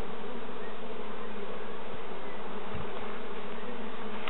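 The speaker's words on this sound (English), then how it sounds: "we'll just shake those bees off" A dense, continuous buzzing of many honey bees at an open hive fills the air, steady and close, with a low hum underneath and no voices.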